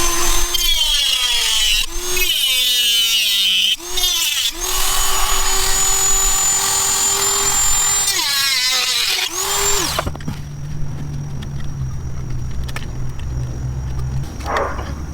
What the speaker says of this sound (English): I use snips on my other one, but I could use the Dremel